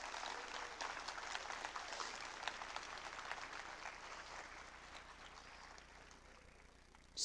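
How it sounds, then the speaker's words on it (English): Audience applause closing a talk at a hacker conference, a steady, dense wash of many hands clapping at moderate distance, held evenly for several seconds before tapering slightly, with no voices over it. "a big round of applause for Eilert."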